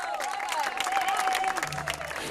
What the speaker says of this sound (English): She garners spontaneous applause as she heads to dinner after the performance